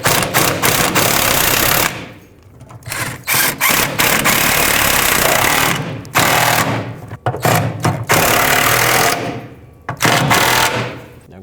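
Power tool running loud and close in repeated bursts, separated by short pauses, while bolts are driven into the spare tire carrier of a 2008-2010 Ford F-250.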